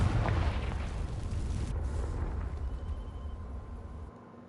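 Confringo fire spell bursting into flame against dry vines in Hogwarts Legacy: a loud, roaring blast that rumbles steadily for several seconds before tailing off, with no talking.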